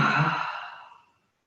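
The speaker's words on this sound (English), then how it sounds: "we're going to do a little bit of yawning" A single person's long, breathy yawn-like exhale, close and soft, swelling briefly and then tapering away into silence over about a second.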